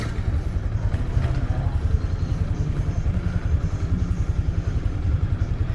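A Yamaha motorcycle rides along a road on the way to a circuit, its engine putting out a steady, loud, throbbing pulse with wind rumble, heard up close from the rider's position.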